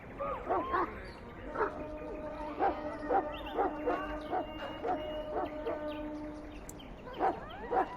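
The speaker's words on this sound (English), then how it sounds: "I fear your hound has the kitchens in uproar once again" A Mabari war hound in the fantasy video game Dragon Age: Origins barks and yips repeatedly over several seconds, with whimpering, howl-like tones between the barks, heard fairly close and alone.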